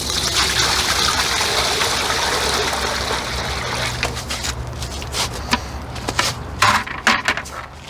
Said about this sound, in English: I'm adding the warm water to the pan.